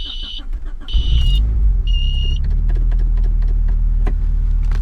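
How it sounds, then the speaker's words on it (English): A Honda Prelude's starter whirs in short bursts, then the engine catches and settles into a steady, loud idle rumble. "We're gonna see if this thing starts."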